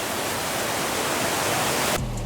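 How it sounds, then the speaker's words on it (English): A waterfall in Yosemite pours with a loud, steady, broadband rush of falling water that fills the whole clip without a break, heard up close with no voices. "Just made it to this sick waterfall."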